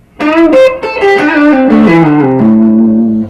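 Loud, close, slightly overdriven electric guitar plays a blues phrase in A that starts high and steps down through several octaves, ending on a held low note, with no voices.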